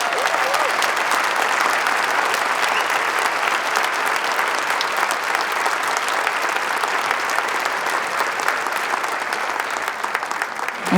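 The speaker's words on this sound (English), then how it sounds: "can we please give John a round of applause?" An audience at an author talk gives John, an author and activist, a long, loud round of applause, thick and continuous clapping from a large crowd that holds steady for about eleven seconds, with faint voices mixed in.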